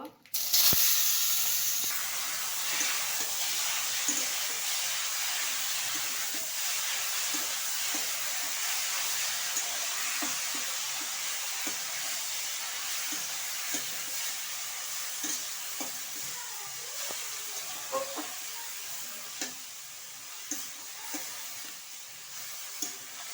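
Leafy greens frying in a wok, a steady loud hiss of steam and sizzle lasting throughout, close by, with faint scattered clicks of stirring beneath and no talk.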